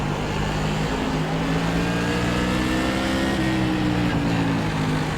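Whelen Tour Modified race car engines at South Boston Speedway in the racing simulator iRacing, a loud continuous droning roar with shifting revving pitch, several engines blending close together.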